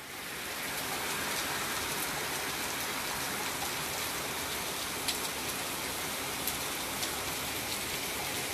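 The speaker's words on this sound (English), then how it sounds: "Yeah, it's a rainy day." Steady rain falls on a rainy day, a dense, even hiss of drops on surfaces that holds constant throughout, with a few slightly sharper drop impacts standing out, no voices.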